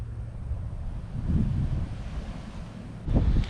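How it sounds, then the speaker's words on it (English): River waves wash against nearby rocks in a low, rumbling surge that swells twice, mixed with gusty wind buffeting the microphone on an open riverbank. "That's the sound of the waves hitting the rocks over there."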